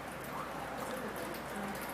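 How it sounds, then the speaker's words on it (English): Steady rain falling over an outdoor girls' high school lacrosse game, a continuous soft hiss of drops filling the whole stretch at even, moderate loudness with no distinct talk. "And now the rain picks back up."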